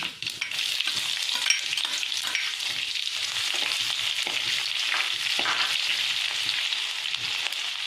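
Chopped shallots fry in hot coconut oil for a Kerala beef roast, giving a loud, steady sizzle with faint stirring scrapes throughout and no voices.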